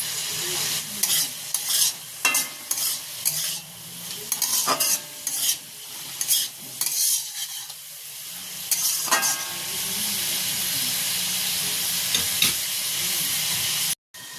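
Mixed fried rice with chopped green chillies frying in a pan, with a spatula scraping in quick rhythmic bursts for several seconds before the cooking settles into a steady close sizzle and hiss.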